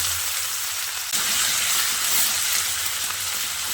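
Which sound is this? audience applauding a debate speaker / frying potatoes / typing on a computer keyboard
frying potatoes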